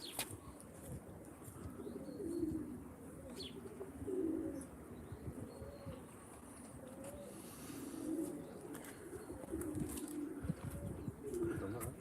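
Racing pigeons at a family loft cooing repeatedly in soft, low rolling calls, several birds overlapping at close to middle distance over a steady breeze and faint background noise.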